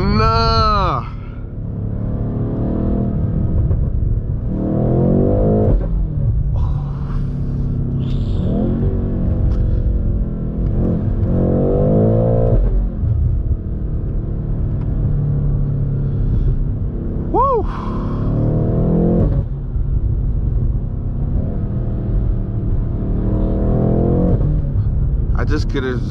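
A BMW M8 Competition fitted with a catless downpipe and Eventuri intakes accelerates hard, its deep engine roar and rising revs heard from inside the car under near-continuous excited talk.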